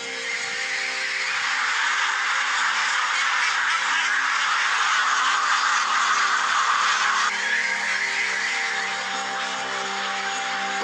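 Ducks kept as factory-farmed poultry make a dense, continuous din of many overlapping quacks and calls, loud and steady throughout with a constant mechanical hum underneath.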